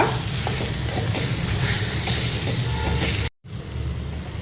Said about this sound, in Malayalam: ഈ മസാല ഇതുമായിട്ടൊന്ന് മിക്സ് ചെയ്യുക.